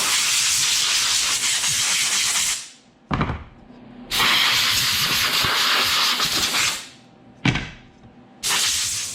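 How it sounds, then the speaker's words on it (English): Compressed air blasting out floor heating vents during an old wood floor refinishing job, loud broadband hissing rush in three long bursts separated by short pauses, close and without talk. "let's blow these vents out"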